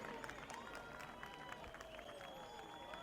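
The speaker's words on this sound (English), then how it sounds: "Listen to that crowd." A large outdoor crowd cheers and applauds at the launch of the 63rd Gordon Bennett gas balloon race, with steady clapping and shouts, while a commentator talks over it.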